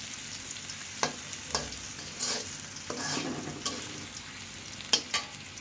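Fish and mung dal fry in a pan under a low, steady sizzle, punctuated by sharp close clacks and scrapes from a spatula stirring at irregular intervals; no one speaks.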